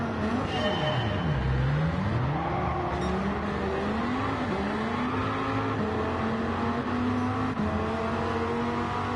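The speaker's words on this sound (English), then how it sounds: "Listen to this engine." A race car engine revs and drones on a track, its pitch sweeping down then climbing steadily as it accelerates, loud and continuous without talk.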